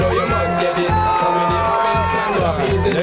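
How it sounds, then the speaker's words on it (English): A crowd at a car cruise event cheers and hollers over loud, steady background noise, with a rhythmic thumping pulse running underneath throughout. "You guys go ahead and applaud for her."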